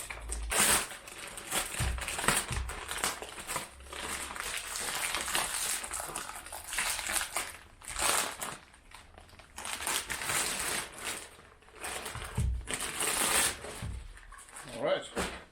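Foil and plastic film peeled off cured epoxy on a hemp fabric body, giving crinkly tearing and crumpling in uneven bursts with short pauses, close and moderately loud, with a voice faintly present.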